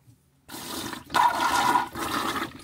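Rebuilt 1950s Wilcox marine toilet flushing after restoration: a sudden rushing gush of water starts after a brief silence, surging louder, then continuing as a steady close swirl until the end.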